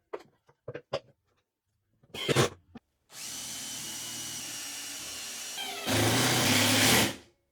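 A power drill drives screws fastening plywood brackets to a plywood motor mounting plate on a table saw build, with a few short taps and bursts followed by long, loud continuous whirring that rises in intensity near the end.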